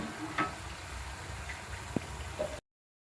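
Jalebi batter frying in hot oil, a soft continuous sizzle with a few faint clinks and bubbling pops, moderately close, ending abruptly.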